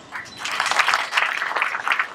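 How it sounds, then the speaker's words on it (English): An audience at an open mic gathering at the Nairobi National Museum claps for a couple of seconds, a dense, moderately loud patter of hands. "Please give Ken a clap."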